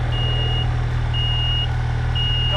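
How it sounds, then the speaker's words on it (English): A snowmobile's steady high reversing beep repeats at slow, even intervals over a loud idling engine rumble. "So that's why it's beeping. It's in reverse still."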